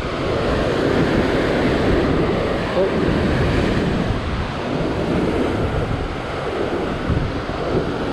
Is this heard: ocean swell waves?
yes